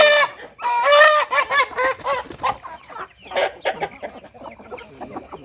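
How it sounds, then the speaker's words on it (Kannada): A fighting cock of a game-fowl breed, weighing about 3.5 kg and kept free-ranging on a farm, clucks repeatedly in close, loud bursts with short gaps between calls, and no talk is heard. "ಈಗ ಅಂಕದ ಕೋಳಿ ಅಂತ ಹೇಳ್ತೇವೆ."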